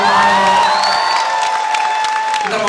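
A concert crowd at a live show in Kuala Lumpur applauds and cheers a band, a dense wash of clapping with a sustained stage tone ringing over it, no voices standing out.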